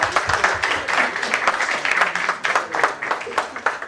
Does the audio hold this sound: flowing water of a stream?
no